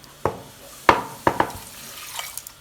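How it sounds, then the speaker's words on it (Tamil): A little water is poured into a cooking pot holding chopped snake gourd and tomato for kootu, giving a few short splashes and drips close by in a quiet kitchen. "கொஞ்சமாக தண்ணி ஊற்றிக்கோங்க."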